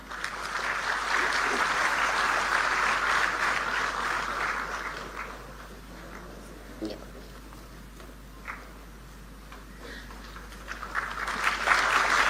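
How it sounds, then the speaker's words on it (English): An audience at the opening of a quantum processor facility applauds, a sustained round of clapping that tapers off into scattered claps before picking up again near the end. "A huge round of applause."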